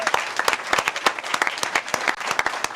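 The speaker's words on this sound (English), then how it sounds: "Let's give our candidates a round of applause." Applause from an audience at a candidates' meeting, a brief burst of dense, steady clapping from many hands with no voices over it.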